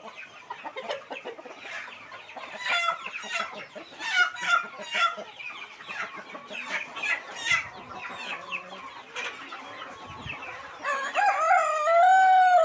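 Three newly bought roosters at a chick hatchery selling Asil, Kathikkal and Peruvidai breeds cluck steadily, then one crows loudly and clearly near the end, with no talk over it.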